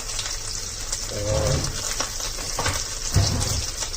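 Poha being stirred as it fries in a pan with a pinch of hing, a close sizzle broken by scraping, clattering stirring strokes, with no one talking.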